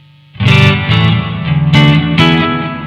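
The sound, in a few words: electric guitar on neck pickup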